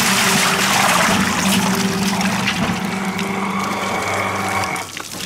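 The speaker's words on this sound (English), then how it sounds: "See, there's the water coming out." Water pours and splashes steadily into a container from a pump on a water algae separator over its low mechanical hum, the flow cutting off near the end.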